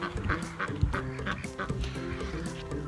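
Ducks quack repeatedly in short, nasal bursts beside a backyard poultry coop, several calls overlapping at close range with a low background hum.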